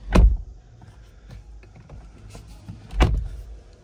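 Power seat adjusting inside a BYD Seal electric car: two sharp mechanical thumps about three seconds apart with a faint, low motor whir in between, close and clear in a quiet cabin.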